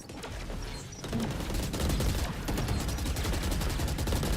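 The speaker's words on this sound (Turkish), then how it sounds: "sıcak bir çatışma dönüyor tekrardan" Gunfire in a Valorant firefight, rapid continuous automatic bursts, loud and close, with a steady rattling rhythm running throughout and no voices.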